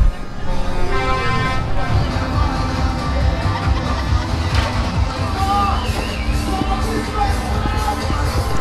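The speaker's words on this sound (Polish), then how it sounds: "mimo zakazów, wszyscy trąbią!" Truck horns honk repeatedly amid busy street noise and a crowd at a truck event in the evening, with short toots overlapping steadily throughout.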